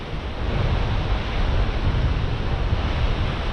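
Continuous broadband rushing of fast-moving water from the strong Mekong River current at Kaeng Kabao rapids, Mukdahan, Thailand, loud and steady throughout with no voices.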